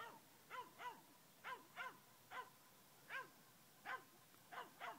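Faint dogs bark at a cat up a tree at a distance in a steady series of sharp, evenly spaced barks, about nine in all, over a quiet outdoor marsh background on a winter day.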